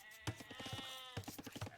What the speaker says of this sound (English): Still a load of sheep.